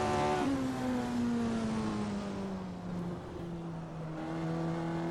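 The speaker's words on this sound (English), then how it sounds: "I always love the sound of these Ford Cosworth V8s" A Ford Cosworth V8 racing car engine in the Assetto Corsa racing game holds a steady high drone. The pitch sags slightly and lifts again as the car runs on, with no talk.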